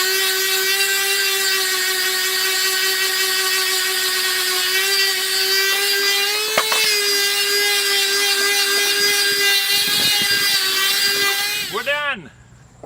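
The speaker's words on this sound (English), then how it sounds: "we're going to hit that really good both sides with the orbital sander" Orbital sander working a wooden chair seat carved from a single piece of wood hums with a steady, loud, tonal whine, then winds down and stops at the end.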